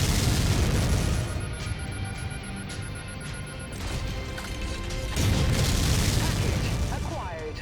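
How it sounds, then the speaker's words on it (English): Mech weapons firing in MechWarrior 5, a dense run of booming, crashing shots over several seconds under loud game noise, with a voice talking through it. "Oops, quit firing that gun."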